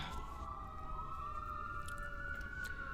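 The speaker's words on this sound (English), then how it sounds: "Oh, there's sirens." Ambulance sirens passing along a main road outside, a faint, muffled wailing tone that slowly rises and wavers, distant and steady under low background hum, no talk.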